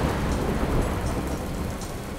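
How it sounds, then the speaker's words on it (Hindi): Heavy rain pours with thunder rumbling on a stormy night outside an old mansion, a dense loud roar of downpour and low rolling thunder filling the whole moment with no voices. "बहुत तेज बारिश हो रही थी और बिजली कड़क रही थी।"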